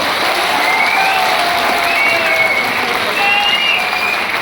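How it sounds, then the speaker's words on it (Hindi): At a rally of temporary workers, a large crowd bursts into loud, sustained applause with some cheering mixed in. The sound is dense and continuous, and a few faint whistle-like tones rise over the clapping. "ताली बजा दो"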